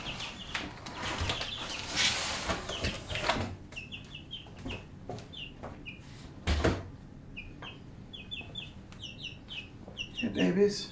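Young chicks cheep in short, high, repeated bursts across the scene, mixed with clucking, clattering handling noises and a voice speaking nearby.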